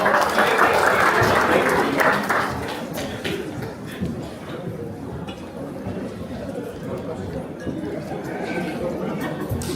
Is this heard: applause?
yes